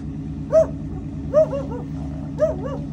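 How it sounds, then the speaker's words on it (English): A dog barks three times at spaced intervals, fairly close, over a steady low hum, with no talk. "Got my dog behind me."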